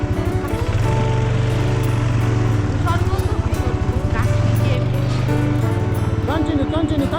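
A snow bike engine drones loudly and close with a rapid pulsing throb while riding over snow at Sonamarg in Kashmir, voices and shouts breaking in over it.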